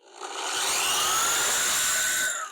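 A PTS drywall sander's motor spins up from quiet into a loud, high, steady whine that holds, then begins easing off at the end, with no talking over it.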